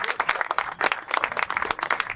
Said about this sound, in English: Let's give everybody a round of applause for coming out today